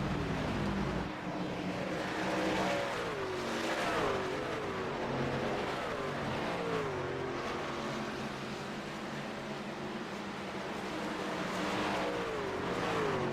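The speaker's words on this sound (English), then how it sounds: "whining, screaming cars out on the track" Race cars lap the Dover oval in iRacing, engines whining and droning continuously with repeated rising and falling pitch sweeps as cars pass, loud and steady throughout.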